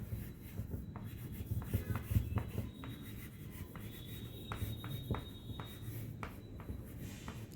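A marker scratches and taps across a board in short strokes, a dry scribbling sound close by with brief pauses between words being written.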